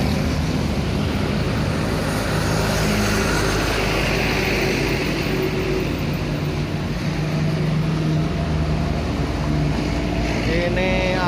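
A Hino bus engine passing on a road in Bandung, a loud continuous roar that holds steady and close, with a rising whine near the end, and no talk over it.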